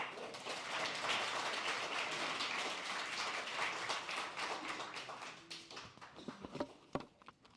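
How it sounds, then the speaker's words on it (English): Audience applause at an event on immigrant parenting and adolescent mental health, a dense patter of clapping that starts loud, then thins out into scattered individual claps before fading, heard from a little distance. "Another round of applause for Dr. Wong and Angela"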